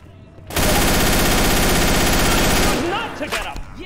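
Sustained automatic gunfire in Left 4 Dead 2, one loud continuous burst of rapid shots lasting over two seconds, then cutting off into quieter game noise.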